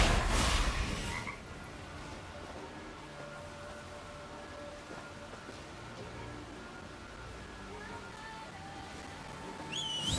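Frog croaks from the Gwent card game ring out over a steady ambient game backdrop, with a louder burst at the start and scattered chirpy tones throughout.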